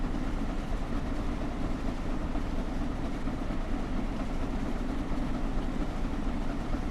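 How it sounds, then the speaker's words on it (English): Train of two American locomotives hauling a British wagon between New York Penn Station and Trenton, a steady, moderately faint rumbling roar of engines and rolling wheels with no talk. "That's two American locomotives with a British wagon."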